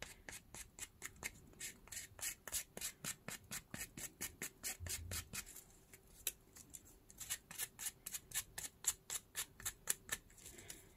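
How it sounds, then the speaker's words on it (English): Scissors snip again and again along the page edges of a small paper book in a fast, steady rhythm of crisp cuts, close up, with a short pause midway and no talking. "this opposite side I'm gonna distress with my scissors as well to make it look more worn"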